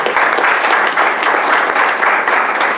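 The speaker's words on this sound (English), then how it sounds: "can we give Malik a round of applause" Audience members at a city board of education business meeting give a round of applause, dense, even clapping that stays close and loud from start to finish.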